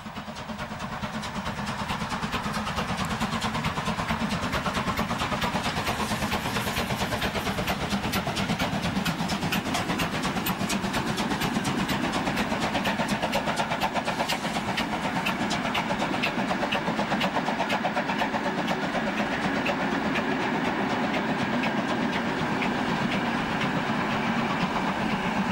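DB Class 23 steam locomotive 23058, converted to light-oil firing, runs with a steady, loud, dense mechanical roar and rapid rhythmic chuffing and clatter that continue without a break throughout.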